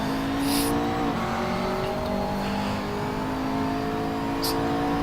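A McLaren 650S GT3 race car engine drones steadily in the Assetto Corsa racing game at Zandvoort, with a shifting pitch as the car runs close behind, continuous and moderately loud.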